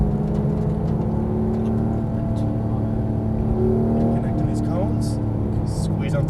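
A Porsche GT3 991 drives on a track in Vegas, its engine droning loud and steady from inside the car, pitch rising slightly as it accelerates.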